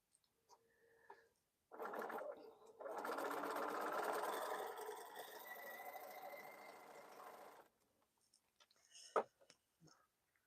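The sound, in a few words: sewing machine running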